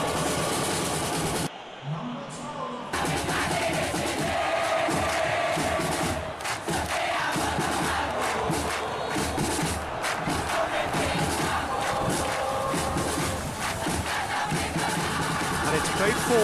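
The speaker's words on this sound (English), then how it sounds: "it's good to see that the crowd appreciate his efforts" A stadium crowd in a football video game roars and chants continuously at fairly high volume after a short drop near the start, a broad, dense wash of massed voices.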